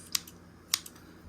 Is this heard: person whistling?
no